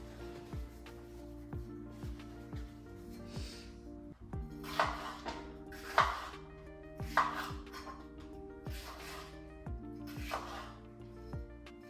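A knife chops green pepper, red pepper and onion on a board in a home kitchen, making regular sharp knocks about once a second, with a few louder cuts, over soft background music.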